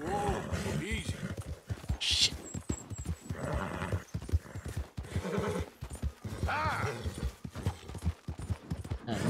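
A horse in Red Dead Redemption 2 clip-clops along at speed and lets out whinnies, its hoofbeats mixed with game sound while someone shouts excitedly over it.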